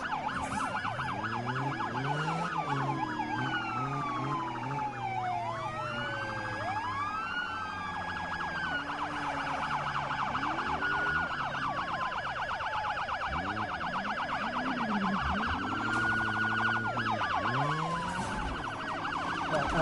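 Several police car sirens wail and overlap continuously in the Need for Speed racing game, rising and falling in loud sweeping tones alongside steady engine rumble.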